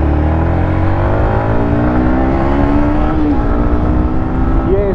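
A Yamaha MT15 motorcycle on its stock exhaust revs loudly and close, the engine note rising and settling in smooth sweeps with no talking.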